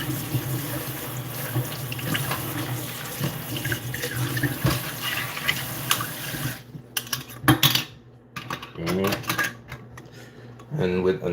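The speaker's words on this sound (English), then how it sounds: "Wash your jar." A glass jar is washed under a running kitchen tap, with a loud, continuous rush of water and clinks of glass against the sink. The water stops near the end, leaving scattered knocks and handling sounds, and a voice speaks briefly.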